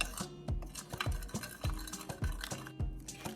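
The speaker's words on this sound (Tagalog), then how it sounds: "We're just going to mix this" Spoon scraping and clinking against a bowl while a beef marinade of ground black pepper and sugar is stirred, with rhythmic sweeping strokes and light metallic clinks repeating about twice a second, close and clear with no talk.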